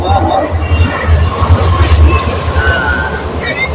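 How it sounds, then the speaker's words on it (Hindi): Express train rushing past on a track close to buildings, a loud continuous rumble with clattering wheels and high metallic squeals, heard near and steady throughout. "ये देखो अभी ये जा रही है एक्सप्रेस"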